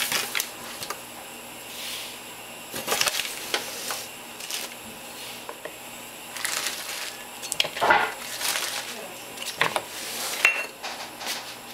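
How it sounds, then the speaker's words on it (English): A knife works margarine with white and brown sugar in a cup, making repeated scraping strokes and sharp clinks against the side, with irregular bursts of close, clattering contact and quiet pauses between them. "I like to use a knife at first just to blend everything together and just chop up the brown stuff"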